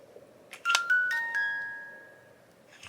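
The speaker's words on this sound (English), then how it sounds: "And it's a music box." A broken jewelry-box music box, twisted once, gives a few bright plucked metallic notes close by, which ring out and slowly fade in a quiet room.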